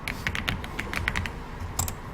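Computer keyboard keys are pressed in a quick run of crisp, close clicks, about a dozen taps in uneven rhythm, with no one speaking.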